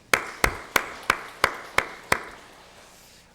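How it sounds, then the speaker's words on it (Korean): Church congregation applauding, heard as seven crisp, evenly spaced claps from close by that fade out, then a short quiet tail. "우리 하나님께 영광의 박수"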